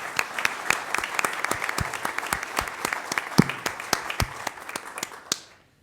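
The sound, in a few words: audience applause for commended scholars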